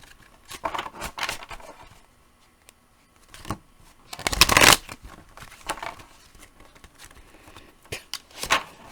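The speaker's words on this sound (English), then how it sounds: "I swear, you all suffer with me in my horrible shuffle skills." A deck of cards is riffled and shuffled in several quick bursts, one loud flurry in the middle, with short pauses between, close to the listener.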